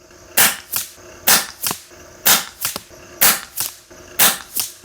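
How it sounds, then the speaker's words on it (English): FX Wildcat air rifle firing JSB and AEA pellets at a 100-yard range: five evenly spaced sharp cracks, each followed by a quieter distant report, loud and close with no talk. "Let's just go ahead and shoot a couple more groups at this setting."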